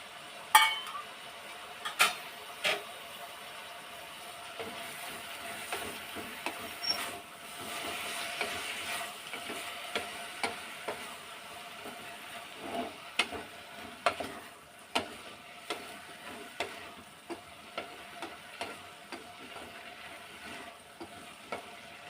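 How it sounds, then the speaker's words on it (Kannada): Tomatoes fry in oil and a little ghee in a pan for bisi bele bath, a steady soft sizzle under repeated sharp clinks and scrapes of a spoon stirring against the metal, with no voices. "ನಾನು ಸ್ವಲ್ಪ ಮಾತ್ರ ಜಾಸ್ತಿ ಏನು ಫ್ರೈ ಮಾಡೋಕ್ಕೋಗಲ್ಲ ಸ್ವಲ್ಪ ಮಾತ್ರ ಫ್ರೈ ಮಾಡ್ತೀನಿ ಎಣ್ಣೆ ಎಣ್ಣೆ ಸ್ವಲ್ಪ ತುಪ್ಪ"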